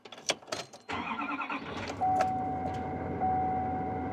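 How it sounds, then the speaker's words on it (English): A pickup truck's engine cranks over and catches, then settles into a steady idle. A few clicks and a brief voice come before the start, and a thin whine rides over the running engine. "we'll go ahead and get the truck started up"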